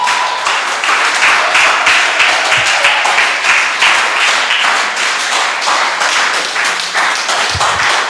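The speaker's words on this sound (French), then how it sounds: "Est-ce qu'on peut acclamer le Seigneur?" A church congregation applauds the Lord, sustained loud clapping from many hands with steady rhythmic bursts, filling the room for the whole stretch without pause.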